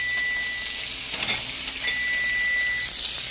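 Butter sizzling in a hot pan, a steady bright hiss with soft crackles and a couple of faint clinks, heard up close without talking.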